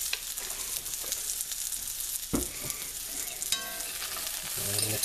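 Potatoes tossed with sriracha chilies frying in a pan, with a crackling sizzle and scraping stirs, one sharp knock in the middle, close and moderately quiet.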